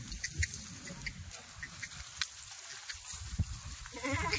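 Kathiawadi goats bleat in several short calls at a crowded livestock pen, mixed with low crowd murmur and shuffling, moderately near.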